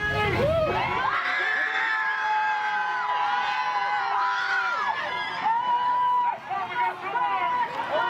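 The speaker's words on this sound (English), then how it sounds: "Pure emotion in the streets of Minneapolis late this afternoon, where large crowds gathered awaiting a decision" Large crowds in the streets of Minneapolis shout and cheer, with overlapping raised voices and tonal calls sustained throughout, loud and close, briefly dipping near the end.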